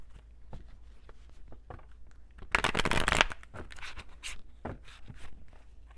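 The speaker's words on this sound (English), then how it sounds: "I'm going to pull the tarot cards for each one first." Tarot cards shuffled close by in a run of soft riffling flutters, with a denser, louder burst of rapid card slaps in the middle and lighter taps around it.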